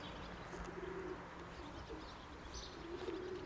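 Pigeons cooing near their dovecote on a calm, windless morning in the countryside: low, soft repeated coos, fairly faint, over a quiet outdoor background.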